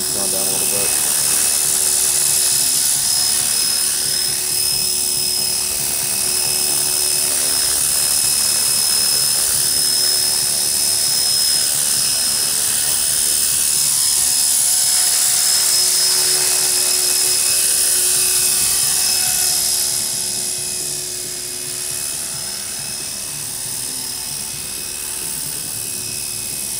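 An RC model helicopter flies outdoors in light wind, its high, whining rotor and motor drone steady and loud, fading slightly toward the end, with faint talk underneath.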